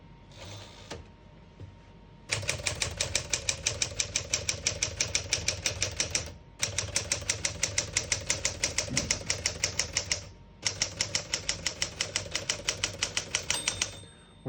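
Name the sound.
typing on a 1964 Smith-Corona Sterling portable typewriter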